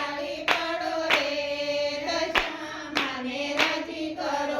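Both hands clap in a steady rhythm, about one sharp crack every half second, loud and close over a sung devotional song to Dashama.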